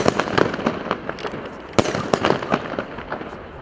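Rapid crackling fireworks being test-fired by emergency services pop and bang close by in dense bursts, with one louder blast midway and scattered snaps trailing off.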